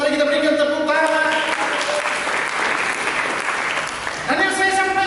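A church congregation applauds during a sermon, a steady broad wash of clapping that fills the space, with organ or keyboard tones sustaining underneath at the start and end.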